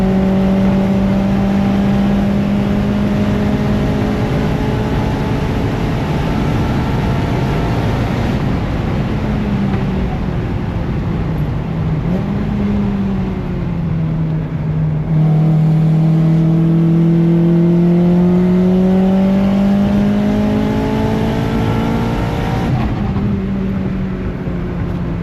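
Race car lapping New Jersey Motorsports Park, its engine loud and close throughout, pitch climbing through the gears, dropping on braking and rising again, no talking.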